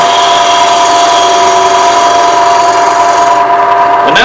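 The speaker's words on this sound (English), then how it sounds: "so I'm going to do a shear cut. So I'm using the lower wing of the tool, handled down as low an angle as I can get it, and just pulling back." Gouge making a shear cut on a wood lathe, the lower wing of the tool pulled back across a small spinning piece: a loud, steady whirring hiss with strong ringing tones throughout, no voices.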